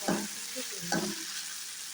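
Onion frying in a pan while a bean mash is cooked, a steady sizzle with two short bursts of stirring near the start and middle, and no talking.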